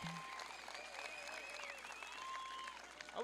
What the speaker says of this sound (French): Les applaudis, mesdames et messieurs.